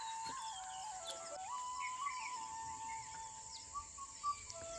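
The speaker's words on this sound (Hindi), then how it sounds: "आपको आवाज़ आ रही है चिड़िया की और वो बोल रही है काफल पाको।" A bird calls faintly from a distance in a quiet forest, its whistled notes set against a steady, high insect drone.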